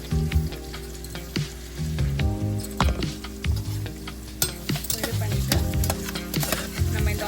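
Onions frying in oil for Chennai-style mutton biryani, a steady close sizzle broken by repeated scrapes and clacks of a spoon stirring the pan.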